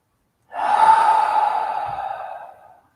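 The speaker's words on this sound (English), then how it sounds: "Let's just take a deep breath together" A long, deep audible breath, a single drawn-out inhale-exhale rising quickly and fading over about two seconds, close and clear with no talking.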